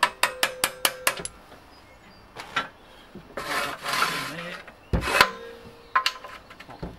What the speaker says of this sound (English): Put a hammer on it.